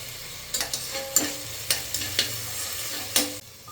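Tomatoes sizzle gently in a hot pan, with a few sharp scraping stirs of a spatula punctuating the steady frying hiss.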